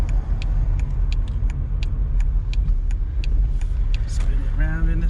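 Volkswagen Golf with a 75-horsepower engine driven slowly around a car park, a low steady engine rumble from inside the cabin with light clicks and a brief voice near the end.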